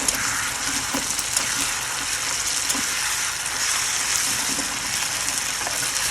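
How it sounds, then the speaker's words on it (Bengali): Boiled taro leaves (kochu shak) frying in hot oil, a loud, continuous close-up sizzle and crackle with occasional stirring, and no talking. "এখন দিয়ে দিব সেদ্ধ করা কচুর শাক। আর কচুর শাকটা দিয়ে এভাবে আমি কিছুক্ষণ ভেজে নিব"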